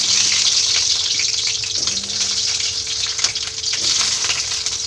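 Onions frying in a pan for a chicken dish make a steady, bright sizzle that runs the whole time, close by, with a few faint clinks and stirring sounds.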